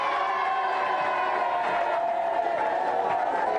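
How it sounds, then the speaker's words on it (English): A television game show studio audience cheers and whoops steadily, a dense crowd roar sustained for a few seconds without pause. "give them a big cheer while they go."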